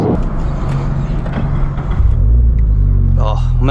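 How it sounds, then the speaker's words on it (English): A 2022 Subaru BRZ engine rumbles loud and close from inside the car, and the low drone deepens and swells partway through as the revs build. "I'm gonna miss the sound of this car"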